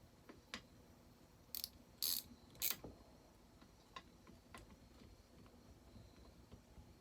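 A quarter-inch socket ratchet clicks faintly while running bolts on the cylinder of a McCulloch Super Pro 80 chainsaw, scattered light ticking with a few brief louder metallic clacks in a quiet workshop.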